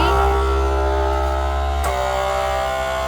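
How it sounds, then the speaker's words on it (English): A vacuum sealer pump sucking air from a bag of dehydrated vegetables gives a steady, loud motorized hum with a constant droning tone, running continuously with a brief click partway through. "we are going to use this to suck the air out"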